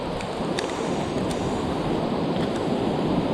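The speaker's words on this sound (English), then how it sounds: "I'm starting to see the waterfall now and it is looking pretty magnificent." The Tarduf Burn waterfall in heavy flood roars with a loud, steady broadband rush of water, unbroken and close.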